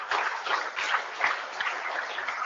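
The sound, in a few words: audience applause for panelists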